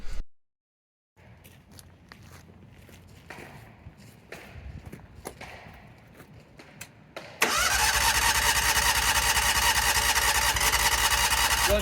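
A small engine is started with the choke on, cranking through several uneven attempts before it catches and settles into a loud, steady running roar that fills the rest of the clip.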